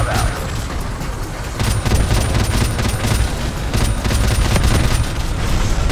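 Dense, continuous battle noise from Call of Duty: Modern Warfare Remastered, with rapid gunfire bursts and heavy booming explosions, loud and layered throughout, with no talking.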